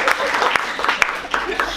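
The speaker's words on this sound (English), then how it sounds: "Can we get a clap?" Brief burst of audience applause at a talk, scattered hand claps overlapping with a voice speaking.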